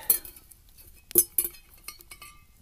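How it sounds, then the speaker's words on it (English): Metal camping cookware from a simple nesting set clinks as Olicamp pot grabbers lift a pot at a night campsite: a few sharp, light clinks and taps spaced irregularly, close by and fairly quiet between hits. "the Olicamp pot grabbers make easy work of it"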